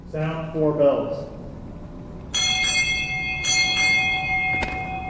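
A ship's bell on a US Navy ceremonial quarterdeck at a Naval Hospital Lemoore change of command strikes four times in two quick pairs, ringing and sustaining clearly after a spoken announcement.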